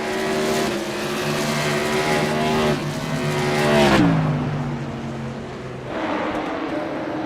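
Modified race cars roar past on a short oval track, engines droning loud and close before one car's pitch sweeps down as it passes, then more cars follow, with an announcer's voice over the din.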